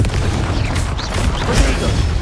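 Confringo fire spell explosion in the Hogwarts Legacy video game, a deep rumbling boom with crackling burst, loud and close, lasting about two seconds without talk.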